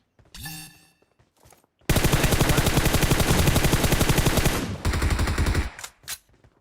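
AWM sniper gunfire in a shooting video game, with a short burst of game sounds, then a loud, sustained rapid volley of shots lasting about three seconds, a shorter burst after it, and a final brief report.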